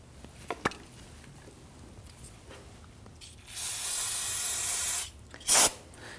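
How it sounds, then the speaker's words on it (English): Aerosol solvent cleaner sprays around a brake bleeder on a 2013-2019 Ford Police Interceptor Utility: a sustained hiss for over a second, then a second short burst after a brief pause; faint clicks precede it. "use some spray solvent and clean this up"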